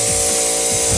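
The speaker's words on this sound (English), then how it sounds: "My first ever air compressor noise in my car." A steady, loud mechanical hiss and hum from a small air compressor running continuously inside a car, at close range.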